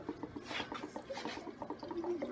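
Water drains and gurgles inside an upturned Salon Sundry hair steamer, faint irregular drips and small liquid splutters close by.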